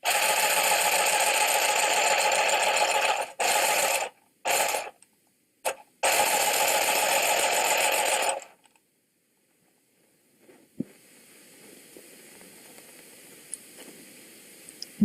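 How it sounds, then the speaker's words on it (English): A small handheld sewing machine whirs in steady runs with brief stops, then falls silent, leaving faint handling clicks. "you can also use the handheld sewing machine holding it vertically to your body"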